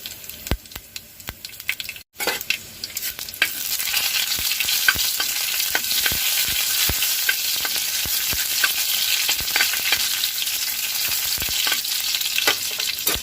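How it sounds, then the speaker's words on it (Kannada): Mustard seeds, two dried red chillies, curry leaves and two or three garlic cloves sizzle in hot oil, a dense steady hiss broken by sharp crackles and pops, close and loud, with no talking. "ನೋಡಿ ಈಗ ಸಾಸಿವೆ ಸಿಡಿತಾ ಇದೆ."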